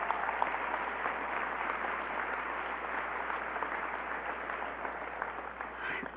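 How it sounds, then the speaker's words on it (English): An audience at a Dancing with the Southern Stars 2019 event applauds for its sponsors in a steady, even wash of clapping that holds at a moderate level from start to finish. "So can we just please give a round of applause to Liberty National,"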